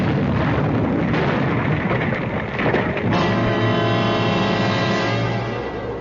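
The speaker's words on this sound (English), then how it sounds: "there was a flash of light and a loud explosion" A loud explosion sound effect from a radio suspense drama booms at once and then rolls on as a long, dense rumble that fills the whole stretch, with no voices over it.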